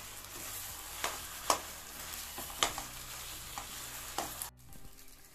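Potato and flour mixture sautéing in a pan for homemade kurkure, a steady sizzle broken by a few sharp spoon scrapes and stirring knocks, close up and moderately loud, with no talking.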